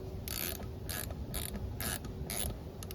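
A ratchet wrench tightening bolts on a tractor manifold, clicking in five quick, close, evenly spaced bursts with a couple of short clicks at the end.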